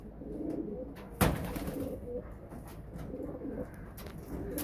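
Pigeons coo steadily in a low, murmuring chorus, close by, with a sharp knock near the start and light rustling throughout.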